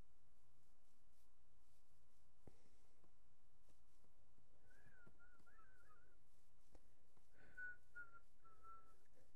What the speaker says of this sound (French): il y a de la misère à siffler, là